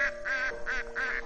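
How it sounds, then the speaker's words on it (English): Ducks quack near a farm pen in a quick run of about four nasal, rhythmic calls, fairly close and moderately loud over a steady hum, with no talk. "ducks are making a lot of noise."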